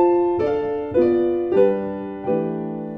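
Solo piano chords played with the chord root as a quick grace note before each one, four struck chords in a steady, unhurried sequence, each ringing and fading, close and clear with no voice.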